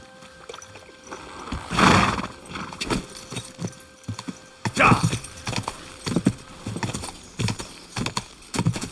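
Horse hooves clip-clopping with a whinny in the medieval video game Kingdom Come: Deliverance II, uneven hoofbeats under game ambience with a couple of louder bursts, and some speech in the scene.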